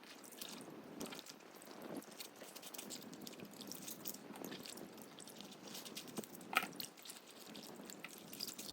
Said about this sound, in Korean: 찬물에 헹궈줄게요.